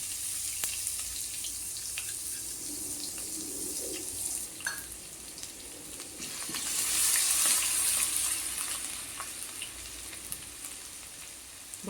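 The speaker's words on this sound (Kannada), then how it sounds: "ಇದನ್ನು ಚೆನ್ನಾಗಿ ಎಣ್ಣೆಯಲ್ಲಿ ಹುರ್ಕೋಬೇಕು" Garlic paste and chopped onion fry in oil for a soya chunks curry, giving a soft, steady sizzle that swells briefly midway, with faint stirring and no voices.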